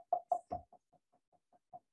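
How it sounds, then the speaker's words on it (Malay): Knocking on a surface, three firm raps followed by a quicker series of lighter taps fading in strength, close and alone with no talk. "Bunyi orang ketuk-ketuk."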